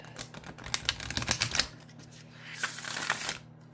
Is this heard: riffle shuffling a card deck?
yes